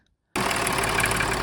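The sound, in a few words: Range Rover Sport 3.0L diesel engine starting after EGR repair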